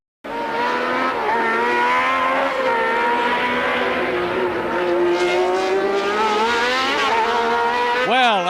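Formula 1 cars race at the 1981 Spanish Grand Prix, a continuous loud engine whine rising and falling in pitch under a commentator's steady voice, with a sharp engine rev surging at the very end.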